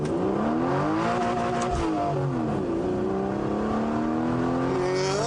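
An Aston Martin Vanquish S engine revs hard as the car accelerates, its tone climbing and dropping through gear changes, loud and close with no talking.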